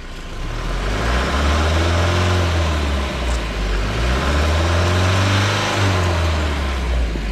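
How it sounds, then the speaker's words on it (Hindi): A car engine runs steadily and close by on a cold day, its low rumble rising and falling as it revs a few times, with no talking. "ठंड के दिन में यार गाड़ी का जो इंजन का साउंड होता है ना, वो भाई चेंज हो जाता है।"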